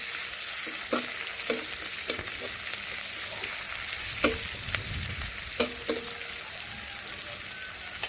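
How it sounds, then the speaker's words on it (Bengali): Chopped onion with spices fries in a pan with a soft, steady sizzle, punctuated by repeated clicks and scrapes of a spatula stirring against the metal. "এখন একটু খুন্তি দিয়ে নাড়াচাড়া করে পেঁয়াজ একটু ভেজে নিচ্ছি।"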